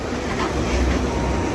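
A train rumbles past at moderate distance outdoors, a steady broadband roar with faint rail clatter that holds level throughout the short stretch, with no voices over it.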